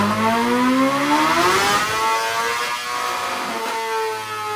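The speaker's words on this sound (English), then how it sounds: "Let me show you what second gear looks like, which on the dyno, check this out" A 2024 BMW M1000XR motorcycle strains in second gear on a dyno, its loud engine note rising in a labored sweep that peaks then dips and steadies into a continuous droning roar, close and unbroken.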